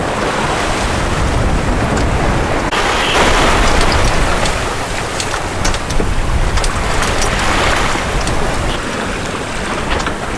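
A sailboat named Odyssey running downwind on gentle swell, a loud, continuous rush of water and wind noise buffeting the microphone, swelling and easing with the rollers.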